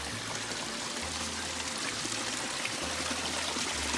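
Water running from a gravity-fed hillside water system, a steady soft trickling and pouring stream with faint low hum in the background, no voices.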